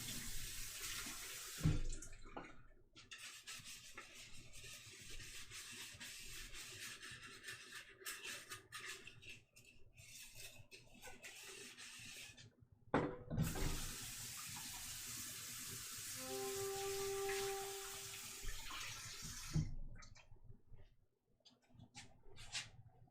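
Tap water runs steadily into a sink as raw liver is rinsed, a continuous splashing hiss that breaks off briefly twice and then fades out near the end, with no talking.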